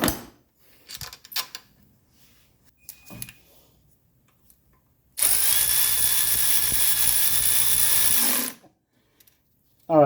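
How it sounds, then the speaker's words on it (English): A power tool whirs steadily for about three seconds, tightening a bolt in the engine compartment of a 1984 Mercedes 300TD, preceded by faint clicks and handling noises. "I'm going to put in our bolt right there and then I'm going to tighten her back up"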